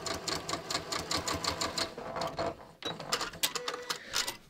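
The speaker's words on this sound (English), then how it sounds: "you can see I can just stitch right over it" A sewing machine runs in quick rhythmic bursts as it stitches through fabric and over plastic clips, with a short pause before the stitching picks up again. No voices are heard.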